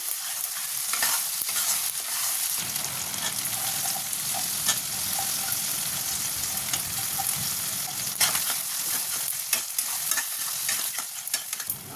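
Masala with cashews and salt sautéing in a pan, a steady close frying sizzle with constant stirring and scraping, plus scattered sharp clicks of the spoon against the pan.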